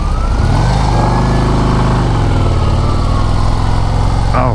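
A 2024 Harley-Davidson CVO ST motorcycle runs loud and close while being ridden, its engine drone steady and dense throughout, with a slight pitch shift near the end.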